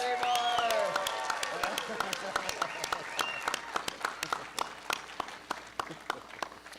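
A premiere audience applauds a lighting operator: loud, full clapping at first that thins into scattered, distinct individual claps, with some voices and a whoop over it.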